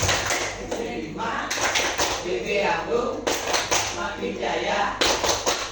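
A room of teachers at a morning school workshop joins in a patterned group clap, several bursts of hands striking in rhythm, fairly loud and close, with voices mixed in.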